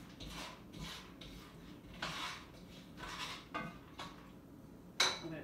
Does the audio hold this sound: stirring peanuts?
yes